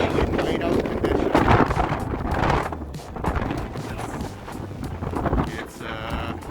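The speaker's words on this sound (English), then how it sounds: "The wind has really picked up." Strong wind roars and buffets the microphone at a ski resort in near-whiteout conditions with blowing snow at minus 15 Celsius. Loud gusty rushing rises and falls throughout, close and harsh, with no clear talk.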